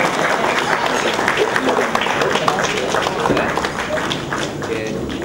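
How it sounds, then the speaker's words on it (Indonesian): An audience at an annual general meeting of a Malay chamber of commerce claps loudly and steadily, a dense crowd sound that holds for several seconds. "Tepuk tangan kuat-kuat."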